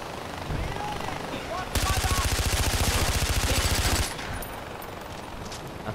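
Rapid automatic gunfire bursts in the video game Far Cry 4, fired at a helicopter, a dense rattling volley of about two seconds after quieter game ambience, with the background continuing faintly afterward.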